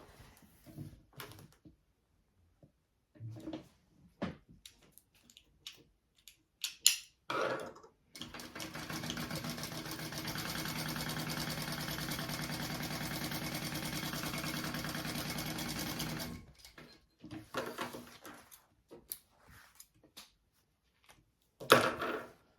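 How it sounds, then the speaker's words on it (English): A sewing machine stitches fabric bag pieces together with a half-inch seam, running steadily for about eight seconds in the middle, framed by quiet handling clicks and fabric rustles. "we're gonna sew it together down at the bottom"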